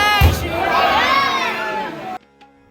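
A dense crowd of pilgrims murmurs and calls out at Hanumangarhi temple in Ayodhya on a busy Saturday, a loud close wash of voices that cuts off abruptly near the end.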